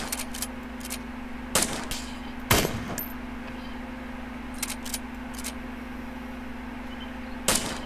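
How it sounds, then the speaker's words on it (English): Winchester rifle shots in the DayZ video game, several sharp broadband cracks at irregular intervals, the loudest near the middle, over a steady low electrical hum with no talking. "I'm going to take a shot."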